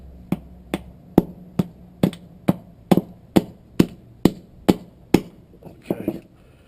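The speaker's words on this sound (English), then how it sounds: "Then you're supposed to pound these out. Well, let me use my bigger hammer." About a dozen sharp, evenly spaced hammer blows on the metal parts of a gas water heater control box, close and loud, with a brief rustle of handling at the end.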